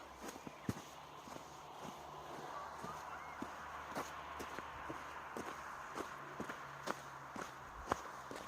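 Footsteps on a snowy mountain path heading downhill in falling wet snow, a steady series of soft crunching steps, faint and close, with no talk.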